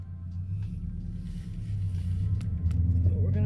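A car engine runs steadily in the background, a low continuous rumble that swells slightly toward the end, heard close inside the vehicle with no clear talk.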